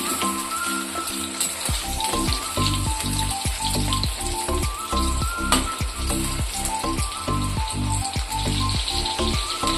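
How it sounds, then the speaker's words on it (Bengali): Chicken pieces fry in hot oil in a pan for chili chicken, giving a dense, loud, continuous sizzle with bubbling and crackling, close up and steady throughout, with no talk. "এবার ওর মধ্যে একটা একটা করে মাংসগুলো দিয়ে দেব। ভালো করে লাল লাল করে ভেজে তুলে নেব।"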